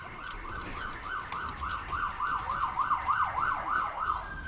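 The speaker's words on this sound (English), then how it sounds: "Holy shit, the ambulance though." A rapidly wailing ambulance siren in the video game Guild Wars 2 rises and falls in quick repeated cycles, growing louder toward the end amid background PvP game noise.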